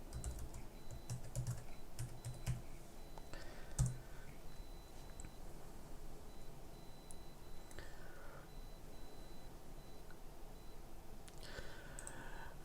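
Computer keyboard keys tapped while entering a password at a login screen, a run of light clicking keystrokes, fairly close and steady with a few brief pauses, heard alone with no talking.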